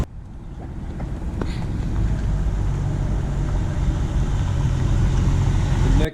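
Jeep Wrangler TJ on a test drive after its worn-out brakes were replaced, giving a steady low engine and road rumble with wind buffeting that builds slightly and holds level for several seconds.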